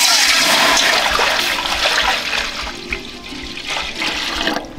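Water is poured for village-style Rajasthani dal baati churma, a loud close rushing gush that splashes steadily, then eases and trickles toward the end, with no speech.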